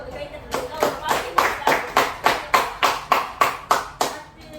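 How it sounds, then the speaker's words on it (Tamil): A classroom group claps in unison, about a dozen sharp, evenly spaced collective claps in a steady rhythm, fairly close and clear. "இந்த குரூப் ஒரு கைத்தட்டு"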